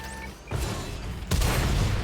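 Heavy tank gunfire in a Polish Tier VIII tank-destroyer battle game, two loud booming cannon blasts landing about a second apart, the second harder and followed by a rumbling tail, over steady battle noise.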